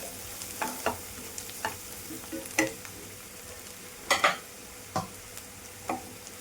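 Turmeric and salt being stirred into a frying pan for a amaranth-leaf stir-fry, giving a soft low sizzle broken by a string of sharp scraping and tapping spatula strokes at irregular intervals, with no one talking.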